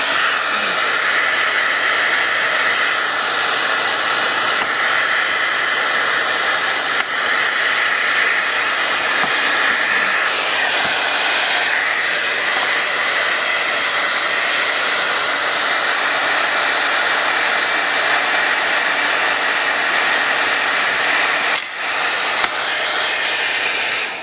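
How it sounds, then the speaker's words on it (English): A hairdryer blows steadily and loudly for the whole stretch, a close, continuous broadband hiss and whoosh aimed at softening glue on a cheap miniature couch, with only small shifts in tone as it moves. "Okay, I think I'm going to have to hit this with the hairdryer"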